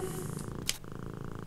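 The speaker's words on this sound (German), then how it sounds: "Oh, wie süß sie schnurrt." A cat in the video game Deponia purrs continuously up close, a low rumbling vibration with a couple of brief sharp clicks over a humming background, no voices.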